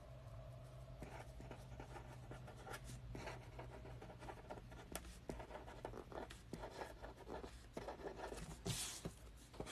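A pen scratches across paper while messages are written by hand, faint close scribbling strokes in irregular bursts over a quiet room hum.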